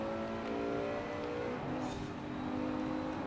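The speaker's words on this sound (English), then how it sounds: "I love the sound of this engine." A race car engine revs and whines steadily in a racing video game, a continuous engine drone with shifting pitch and no talking.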